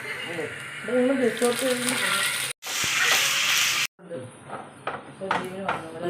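Mustard seeds hit hot coconut oil with curry leaves as a tempering for a black pomfret curry, giving one loud, abrupt burst of sizzling and spluttering between stretches of someone talking.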